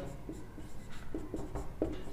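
A pen writes out a geometry solution on paper: soft, close scratching strokes in short irregular bursts against a quiet background.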